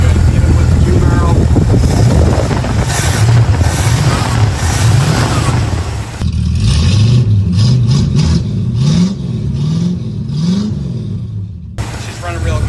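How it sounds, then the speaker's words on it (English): A Ford 351 Windsor V8 with a 2-barrel carburetor, in a 1976 Granada, runs at a steady loud idle with low rumbling pulses, and a few rising revs come later. "we are now running really good, even with the 2-barrel"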